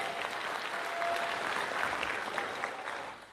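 An audience at a seminar applauding, a dense steady wash of many hands clapping that holds for a few seconds and begins to thin at the end.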